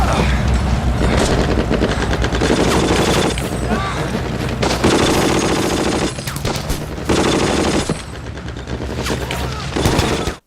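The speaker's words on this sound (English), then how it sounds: "Machine guns, open fire!" Heavy machine gun fire from a WWII bomber in an aerial war drama, long loud continuous bursts with booming impacts and brief gaps, dense and close throughout.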